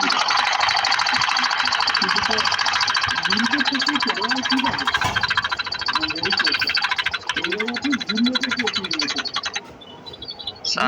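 A sewing machine stitches with a steady, rapid whirring rattle during a tailoring lesson, running almost continuously. Someone talks over it.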